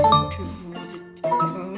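Notification bell ding effect: two bright chiming bell strikes with ringing tails, the second entering after a short gap, clear and alone.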